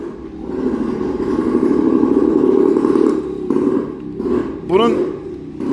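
A Motobecane Mobylette moped engine runs nearby with a buzzy, uneven putter, revving up and down, while a voice speaks over it.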